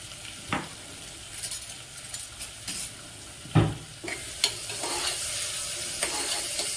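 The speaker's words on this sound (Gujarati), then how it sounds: "હવે તેમાં મીઠું એડ કરી અને હું બરાબર હલાવી લઈશ" Khichdi is stirred in a pot after salt is added, with a faint sizzle underneath and irregular scrapes and knocks of a spoon against the vessel, close and moderately quiet.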